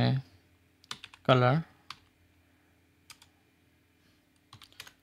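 Code being typed on a computer keyboard: sparse, quick clusters of light key clicks separated by quiet gaps, fairly close, with brief bursts of talking near the start.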